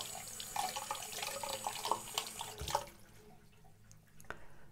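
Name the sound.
water running while rinsing off a kaolin clay face mask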